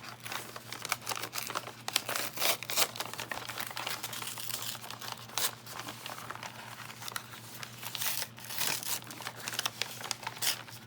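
A fresh branded paper bag is ripped open along its bottom to form a tube, giving a steady run of close, loud crinkling and crunching with sharp tearing bursts throughout and no talking.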